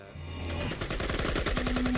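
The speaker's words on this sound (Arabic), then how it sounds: "وعندها سمعنا أصواتاً رهيبة" Rapid bursts of gunfire echo from a valley about four kilometres away in Colombia, a quick string of sharp, evenly spaced shots in a row, distant but distinct, with no voices over them.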